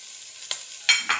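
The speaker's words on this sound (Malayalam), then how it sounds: "കുറച്ച് ഗരം മസാലപ്പൊടി ഇട്ടിട്ട് ഇങ്ങനെ വഴറ്റുക. എന്നിട്ട് കല്ലുമ്മക്കായിലിടാൻ പോവുകയാണ്." Mussels sautéed with garam masala powder in a pan for biryani give a few short stirring scrapes and bursts of sizzling, close and brief.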